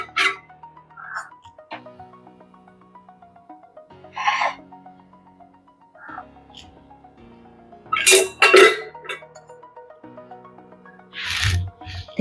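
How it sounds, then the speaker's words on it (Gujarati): A metal kadai set down on a home stove while frying oil heats for batata vada, with a few sharp metallic clinks and knocks of pots, louder bursts around the middle, over a steady low hum. "આપણે કઢાઈ મૂકી દઈશું અને એમાં તેલ લઈ લઈશું વઘાર માટે"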